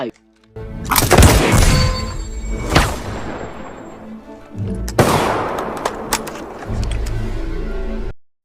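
An AK-46 rifle is test-fired after being dunked in water, letting off loud, close bursts of gunfire, with a long rattling volley early on and another burst later, ringing out between short pauses.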